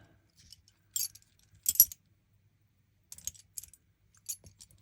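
Rusty old keys being handled as part of a craft project, giving small bright jingles and clinks in several brief, separate clusters against near silence.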